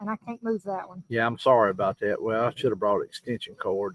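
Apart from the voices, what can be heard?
No everyday noise stands out behind the speech.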